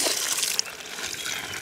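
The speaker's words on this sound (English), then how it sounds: "Flowing about, I'd say, maybe 3/4 inch pipe, the way it's flowing, but it's cold." Ice-cold well water pours steadily from roughly a three-quarter-inch pipe, a close, continuous hissing gush with no talk.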